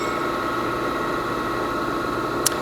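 Enco ProtoTrak 949 CNC vertical mill with a single-phase motor, running in low gear as a steady mechanical hum with a faint tick near the end.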